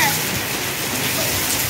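Steady rain pours down in a dense, even hiss outdoors in a neighborhood lane, close and continuous throughout the short stretch.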